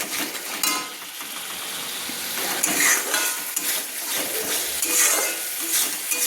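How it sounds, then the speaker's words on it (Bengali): A ground spice paste with coriander powder sautés in a pan for an egg and cauliflower curry, with a continuous close sizzle, scraping stirs and occasional clinks of a spoon against the pan. "ভালো করে মশলাটা আমি কষিয়ে নিচ্ছি"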